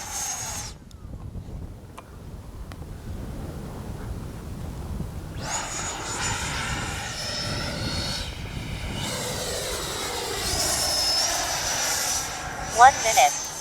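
Freewing 90mm F-22 V2 RC jet flying overhead, a steady airy jet whine that swells and shifts in pitch as it passes, continuous throughout with a brief louder burst near the end.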